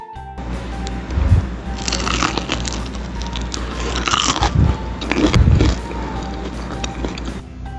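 Crunchy air-fried chicken coxinha is bitten and chewed close up, with several loud crisp crunches and softer chewing between them.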